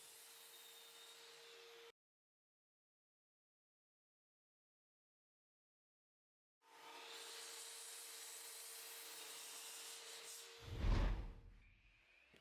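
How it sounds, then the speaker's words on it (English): An 80 grit sanding pass over a pale pine wooden frame gives steady, close abrasive rubbing in two bursts separated by a silent pause, the second ending in a heavy thump. "Here I'm adding another quick 80 grit sanding to avoid splinters."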